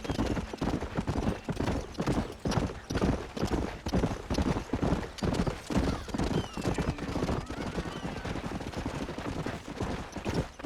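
Horse hooves clip-clop at a quick, rhythmic gallop while riding in Red Dead Redemption, with a neigh and scattered gunfire mixed into the steady pounding.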